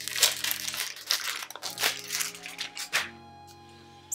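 A plastic-wrapped product tube is handled, its wrapper crinkling and crushing in quick, close bursts for about three seconds before things fall quiet under a faint tone.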